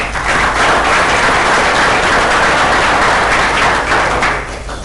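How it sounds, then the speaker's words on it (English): Audience applause at a school board meeting for the parents of the student of the month: a dense, steady wash of clapping that holds at full strength for about four seconds, then begins to thin out. "Mom and Dad are here, so we got a round of applause for them also"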